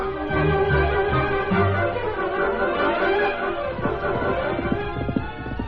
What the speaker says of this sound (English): And the horse is running away.